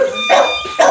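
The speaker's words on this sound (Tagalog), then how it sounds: "Maingay aso." Two sharp dog barks, close and loud, on a street corner, with an electronic whine in the background.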